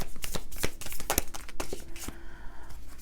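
Tarot cards are shuffled by hand in a quick run of crisp riffles and slaps. The burst of card noise fades near the end and no voices are heard over it.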